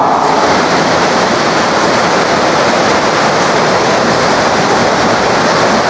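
The oil pump of a CR3000A common rail injector test bench runs with a loud, steady mechanical whirring and a broad hiss, without pause, close by and constant.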